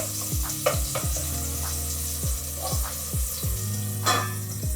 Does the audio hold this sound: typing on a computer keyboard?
no